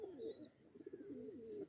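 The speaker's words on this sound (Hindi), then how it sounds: "कबूतर पाले ने" Domestic pigeons kept at a house coo in a steady, rolling series of low throaty calls, close and fairly loud, with a faint higher chirp early on and no talk.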